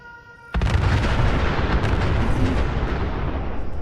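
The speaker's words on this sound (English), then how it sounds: "Looks like the gunners took the bait. Look, they're firing!" Gunners open fire on decoy mannequins in Fallout 4, a sudden loud barrage of game gunfire and booming blasts that starts after a brief quiet moment and continues densely to the end.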